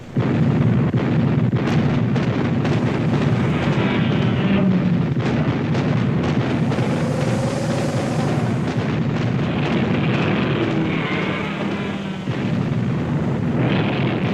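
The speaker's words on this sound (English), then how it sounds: "Battery 1, open fire." An artillery battery opens fire in a 1977 Godzilla audio drama: a dense, continuous roar of loud booming blasts and rumbling explosions that fills the whole stretch without pause.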